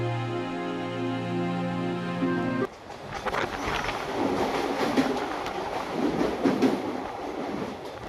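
A Bengal local train bound for Hasnabad runs along the track, a steady rumbling roll with carriage rattle filling the whole stretch after a brief tonal hum at the start.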